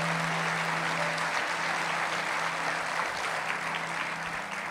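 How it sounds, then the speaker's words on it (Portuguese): Steady applause from a church congregation at an evening service, a dense, fairly faint patter that holds evenly throughout over a low hum. "Você pode dar um aplauso ao Senhor essa noite?"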